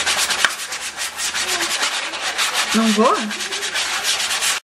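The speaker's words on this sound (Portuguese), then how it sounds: "tá ali lixando a escada" A wooden staircase is sanded by hand in a home renovation, with steady rhythmic scraping strokes close by, while a brief voice and a child's high vocal sounds are heard.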